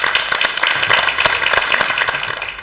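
A municipal council audience in Plœmeur applauds newly installed deputy mayors, a dense, steady patter of many hands clapping close by for a few seconds with no talking over it.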